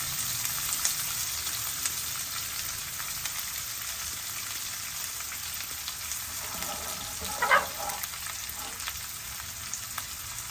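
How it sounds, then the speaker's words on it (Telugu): Dried red chillies and onions frying in a pan, giving a continuous soft, even sizzle with a short clink of a utensil partway through and no voices. "ఎండుమిరపకాయలు వేసామా, ఇది కొంచెం వేగిన తర్వాత అప్పుడు ఉల్లిపాయలు."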